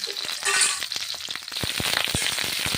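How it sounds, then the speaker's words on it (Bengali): Cauliflower pieces frying in hot oil in a pan, with a steady close sizzle and crackle and a few sharp pops and stirring clinks in the second half. "ফুলকপিগুলো এখন ভেজে নিচ্ছি"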